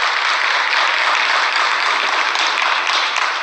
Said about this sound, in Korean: 우리 응원의 박수 다시 한번 크게 보내주시기 바랍니다